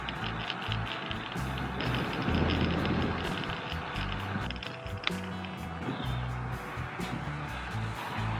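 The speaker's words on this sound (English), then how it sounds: "it's just suddenly noticed how strong the wind is" Strong gusting wind buffets the microphone during a countryside road cycling sportive, a constant low rumbling roar that surges and eases with the ride.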